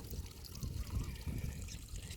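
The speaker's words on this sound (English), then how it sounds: "there's lots of little streams like that for Diggy to have a drink in" A small woodland stream trickles near an old 15th-century manor house, a soft continuous babble of water that is close but faint and steady throughout.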